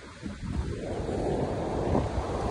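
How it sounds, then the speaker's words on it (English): Steady wind buffeting the microphone on the beach at Pawleys Island, South Carolina, with a low, continuous roar of surf behind it, no voices. "It's windy this morning."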